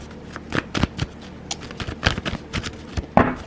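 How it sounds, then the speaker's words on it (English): Tarot cards being shuffled by hand in a burst of quick riffling flicks and soft slaps, close and fairly loud, with no talking. "when I'm just shuffling normally and cards fly out one by one"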